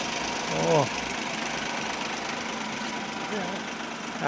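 A 2013 car engine, reported as running quietly and normally, idles steadily at close range. Short throttle blips raise the revs briefly near the start and again at the end.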